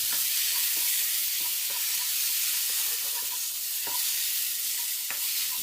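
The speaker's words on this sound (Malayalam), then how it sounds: "ഇനി മൂടി തുറന്ന് നല്ലപോലെ ഇളക്കി ഇതുപോലെ വേവിച്ചെടുക്കണം." Egg roast masala is stirred in a pan over a continuous sizzling hiss, with a spoon scraping and clinking in irregular taps against the pan throughout.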